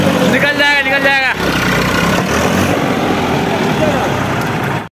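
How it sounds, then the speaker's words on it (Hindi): A Massey Ferguson tractor stuck in a pit, its engine labouring with a loud, steady drone throughout while people talk and shout over it close by. "ऐसे देखिए ये यहाँ पे ट्रैक्टर फंस गया"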